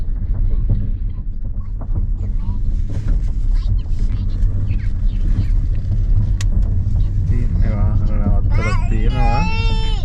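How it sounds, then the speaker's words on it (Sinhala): Car tyres rolling over the ground while pulling into a campsite, a loud continuous rumble with wind buffeting, people talking throughout and a voice rising near the end. "ටයර් වලින් ඇහෙන මං ආසම සද්දේ."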